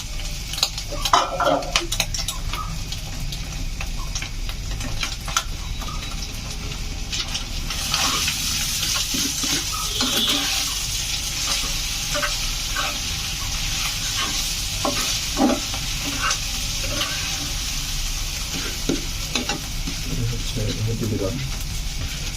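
Noodles stir-fried in a pan: continuous sizzling and frying with repeated stirring scrapes and clinks of utensils on cookware, close and fairly loud, with stretches of running-water-like hiss.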